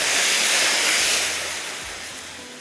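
Hot tadka poured over torai and potato sabzi, a loud, bright sizzling hiss that flares up at once, then slowly softens as it settles.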